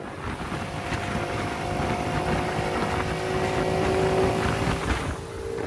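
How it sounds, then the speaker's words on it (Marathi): A vehicle engine drones steadily from inside, a continuous low rumble with a faint whine rising and falling, mixed with wind noise and no talk. "आपल्या गाडीचा आवाज ऐकता का"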